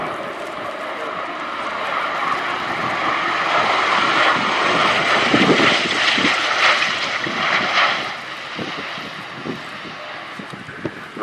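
A Bell Boeing CV-22B Osprey tiltrotor aircraft flies at an air show, a loud broad rotor and engine roar swelling to a peak midway then easing as it passes, with faint narration beneath.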